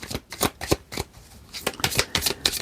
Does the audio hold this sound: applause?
no